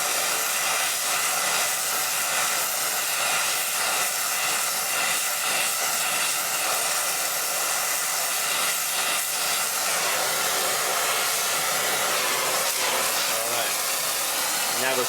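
A torch roars steadily, a continuous loud hiss of flame heating flux and silver solder on a nut joint, holding even throughout with no talk over it.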